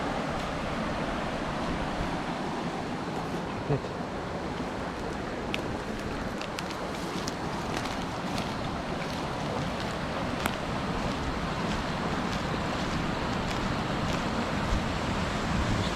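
Water overflows down a lake spillway into a paddock after rain, a continuous broadband rushing wash with light wind buffeting, steady and moderately loud without speech.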